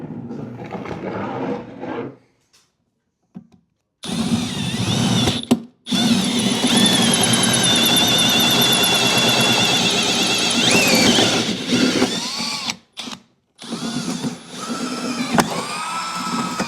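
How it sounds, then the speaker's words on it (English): A power drill whines and squeals in long, loud bursts separated by short pauses, biting into material close by. "So we're going to get this marked out so we can drill some holes in it."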